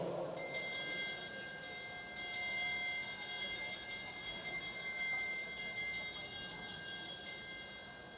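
A last-lap bell rings steadily with sustained metallic tones over a noisy crowd and track ambience at an international junior track cycling race, continuing throughout.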